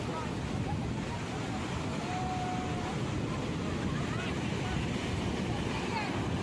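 Sea surf rolling in at Digha beach, a continuous broadband wash of waves with wind buffeting the microphone and faint distant voices of bathers mixed in.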